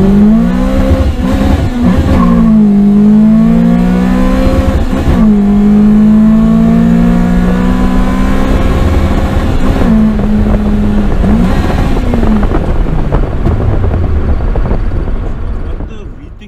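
Haltech-powered 2ZZ-GE swapped Toyota Corolla engine, loud close revving with repeated throttle blips and sweeping pitch changes, ending as the revs drop and fade.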